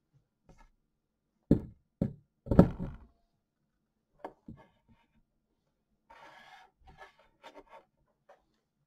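Ultrabasic troctolite/peridotite rock specimen from the Isle of Rum handled and turned over, with a few sharp knocks and thunks followed by brief scraping rubs, close and sparse with quiet gaps between.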